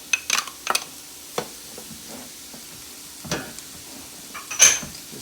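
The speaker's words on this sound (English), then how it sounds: "we're going to go ahead and add our Braised apple into the pot" Braised apple tipped into a pot of cooking sausage meat brings sharp bursts of sizzling and hissing, followed by intermittent stirring scrapes and quieter frying between them.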